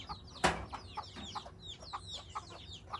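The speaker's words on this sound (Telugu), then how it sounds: "డోర్ ఓపెన్ చేయగానే కోళ్ళు ఒకదాని వెంట ఒకటి వరుసగా బయటకు వస్తూనే ఉంటాయి చూడండి." Quiet clucks from chickens filing out of a coop one after another as the door opens, with scattered soft chirps and one sharp knock early on.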